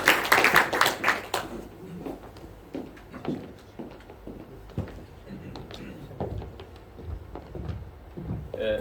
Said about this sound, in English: A big round of applause Rahman